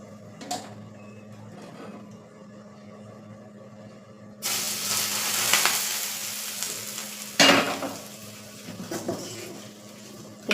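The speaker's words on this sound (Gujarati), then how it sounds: "તો આપણું તેલ ગરમ થઈ ગયું છે. હવે આપણે તે ભાજીમાં એડ કરી લેશું." Hot oil poured over spicy potato bhaji bursts into a loud hissing sizzle partway through and keeps crackling and spitting for several seconds, close, after a quieter stretch of faint stirring.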